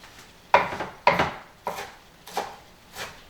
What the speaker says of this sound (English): I'm gonna use flat leaf parsley or Italian parsley, which is my favorite parsley, and I'm gonna give it just like a loose chop